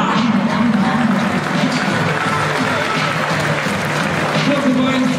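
Crowd applauds at a volleyball match in a sports hall, Stilon Gorzów against Stoczniowiec Politechnika Gdańska, a steady, dense wash of clapping and cheering that runs throughout, with tonal music or announcer sound mixed in.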